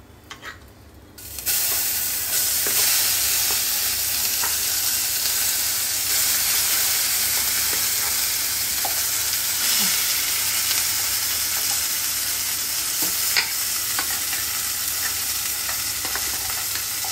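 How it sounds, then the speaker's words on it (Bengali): Green pea paste frying in ghee tempered with asafoetida, a steady loud sizzle and hiss lasting throughout with scraping stir sounds, starting after a brief quieter moment at the beginning. "একটু ঘিয়েতে একটু হিং ফোড়ন দিলাম, দিয়ে এবার মটরশুঁটির পেস্টটা দিয়ে দে।"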